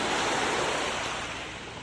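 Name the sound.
sea waves on the shore near the house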